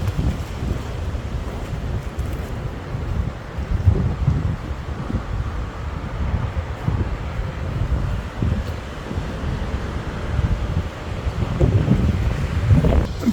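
Steady wind buffeting a microphone, a continuous low rumbling roar with gusty swells throughout and no voices.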